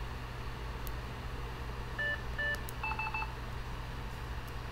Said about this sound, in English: And there's your beep.